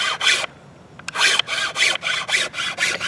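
A round chainsaw file rasps across the wooden tip of a primitive bow, giving steady back-and-forth strokes after a brief pause, close and fairly loud.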